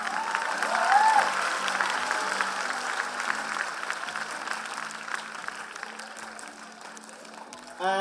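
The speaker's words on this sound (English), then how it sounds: "Yes, you can clap for them." Sustained applause from the audience at an annual dance show, cheering the dancers: broad, steady clapping with crowd noise, a faint tonal hum underneath, easing slightly before a brief burst at the end.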